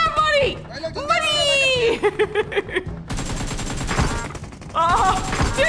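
Rapid gunfire from a shooting video game bursts in dense, continuous volleys through the second half, following excited shouting and laughter from several people at the start and again at the end.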